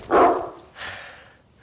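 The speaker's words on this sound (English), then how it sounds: "that's a dog. Oh, yo, we got a dog." A single dog gives two barks outdoors, a loud first bark followed by a softer second one, with no talking.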